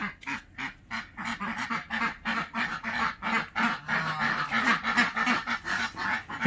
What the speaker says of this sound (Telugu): చూడండి, బాతులు, గిన్నె కోళ్ళు